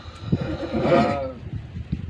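A young male racehorse lets out a single wavering whinny midway, close and fairly loud, with brief thumps and shuffling before and after.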